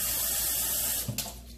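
Tap water pours steadily into a jug in a kitchen, a continuous close rush that briefly splashes and shifts near the end.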